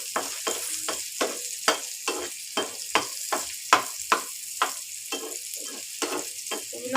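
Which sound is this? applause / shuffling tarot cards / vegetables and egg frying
vegetables and egg frying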